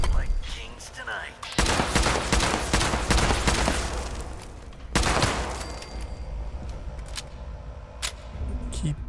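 Gunfire in the video game Fallout 76 comes in rapid bursts of loud, dense shots, with heavy firing in the first half and scattered sharp reports later.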